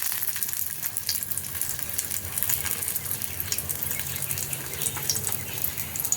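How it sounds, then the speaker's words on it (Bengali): Steady, loud sizzling of an egg wrapped in pumpkin leaf frying in oil on a griddle over a gas flame, continuous and close with no speech. "এটা এখন আমি এই গ্যাসের মধ্যে তেল বসিয়েছি চাটুতে, এর মধ্যে দিয়ে দিলাম।"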